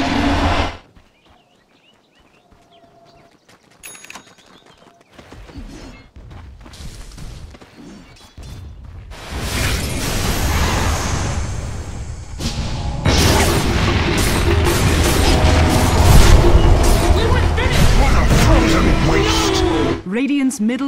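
A Dota 2 match in which Radiant's middle tower comes under attack: after a quiet opening, heavy booms and thuds of battle build into a loud, dense clash that continues to the end.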